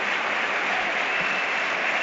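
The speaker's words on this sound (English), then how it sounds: "David Nugent gets a decent round of applause from the home supporters" Home supporters at a Preston versus Leeds United football match give a steady round of applause as a substituted player leaves the pitch, a continuous broad clapping from the stands with no voices standing out.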